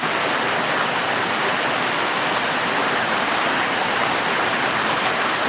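Heavy rain pours in a Kalbaishakhi storm at Bangra Bazar, Muradnagar, Cumilla, as a dense, steady roar of near, loud downpour with no breaks.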